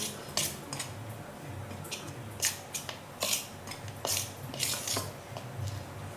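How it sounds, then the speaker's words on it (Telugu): A spoon works hot oil into samosa dough in a bowl, making close, irregular scraping and clinking strokes with soft squishy textures, in a quiet kitchen. "నెక్స్ట్ దీన్ని కొంచెం ఒక స్పూన్తో కలిపేసుకుందాం."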